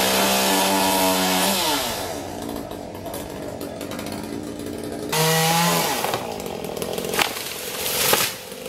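Chainsaws cutting down a huge tree, loud revving engine whine rising and falling as the saws bite and ease off, with a second surge midway, no one speaking.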